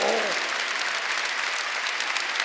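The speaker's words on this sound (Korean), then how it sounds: "박수 좀 세게 쳐봐요." A church congregation at Sunday worship claps hard and fast, a dense, even roar of many hands that fills the whole stretch at steady loudness.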